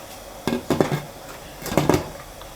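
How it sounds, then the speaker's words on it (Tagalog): A lid is set over a pot of steaming suman, giving two short clusters of clattering metallic clanks against a quiet background. "At habang hinihintay po natin to ay tatakpan lang po muna natin."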